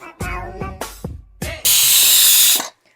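A pressure cooker on a stove, cooking mutton, lets out a few short bursts of steam and then one long, loud, steady hiss that cuts off abruptly near the end.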